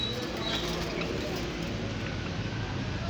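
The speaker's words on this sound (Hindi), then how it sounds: "बहुत प्यारी है ये जावा स्पैरो है।" Java sparrows kept as pets in a home give soft, faint chirps and cooing calls. The calls are scattered and sit under a steady background hiss.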